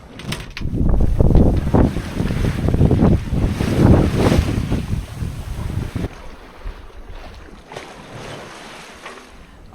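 Wind and waves surging around a sailboat on the Pacific, loud gusting wind buffeting the microphone over rushing water, easing to a softer wash of waves in the last few seconds.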